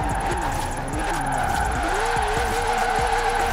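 1966 VW Kombi double-cab pickup drifting in Forza Horizon 4, with a steady engine drone, wavering revs and tire squeal running continuously and loud, under faint game sounds.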